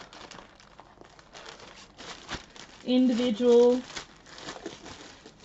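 Paper sheets crinkle and rustle as they are handled at a craft cupboard, two short bursts of crumpling close by between stretches of quiet talk.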